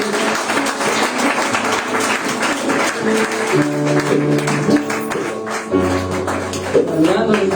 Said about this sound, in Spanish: Vamos a darle fuertes palmas al Señor Jesús.